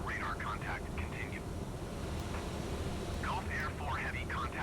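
Embraer E170 jet engines in Microsoft Flight Simulator, cruising over the North Sea, give a steady broadband roar that runs unbroken beneath someone talking throughout.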